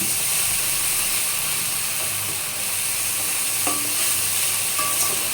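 Soybean curry with mixed spices and turmeric is stir-fried in oil in a pan, giving a constant bright sizzle with scraping and clicking stirring strokes close by.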